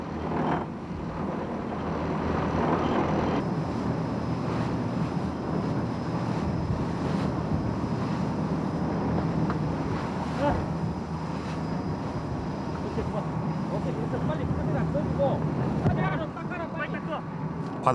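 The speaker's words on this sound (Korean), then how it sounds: "그런데 갑자기 파도가 세진다." Strong waves at sea, southwest of Yejakdo on a shark-fishing boat, churn in a continuous loud rushing wash with wind buffeting, steady throughout.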